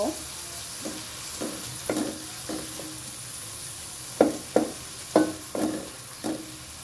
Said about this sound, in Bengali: পেঁয়াজ কুচিগুলোকে হালকা ভেজে নেব, মানে নরম করে নেব।